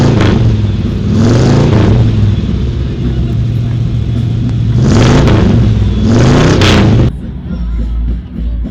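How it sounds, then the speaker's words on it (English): A car engine at a car show revs hard in two loud bursts, rising and falling in pitch between steadier idling, then cuts to a quieter low rumble at the end. "Now let's rev it up for the car show."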